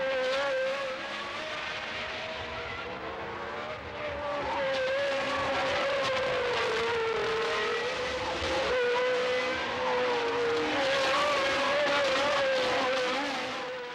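1979 Formula One cars howl through a chicane at Monza, high-pitched engines wailing and shifting pitch as the field streams past, loud and continuous.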